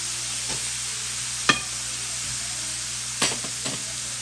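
Sausages fry in a pan with a soft, constant sizzle, broken by a few brief scrapes or stirs.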